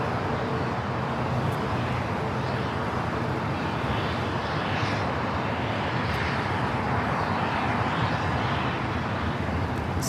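An airliner taxiing at LAX rolls through a left-hand turn onto a taxiway, its engines giving a steady, broad rumble and whine that holds at even loudness throughout, with no voices.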